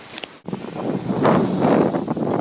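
Cold wind gusts through snowy weather, a loud steady roar buffeting the microphone after a brief quieter moment at the start.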